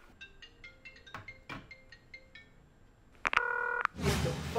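A run of telephone keypad dialing tones, a quick sequence of short beeps followed by a longer tone, then a burst of noise at the end, heard alone without talk.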